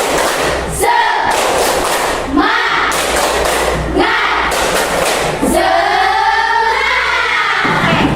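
A classroom of students stands and performs the 'tepuk semangat' clapping chant, with loud group shouting and rhythmic bursts of clapping repeating in several waves across the room.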